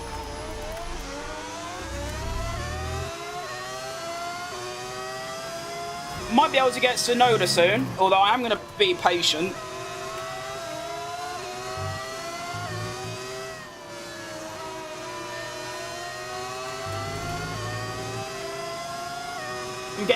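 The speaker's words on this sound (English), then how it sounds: "Although this is currently a V10 that you're hearing." A V10 Formula 1 engine in the F1 25 racing game holds a steady high-pitched whine with many rising and falling harmonics as the car shifts, running under continuous talk throughout.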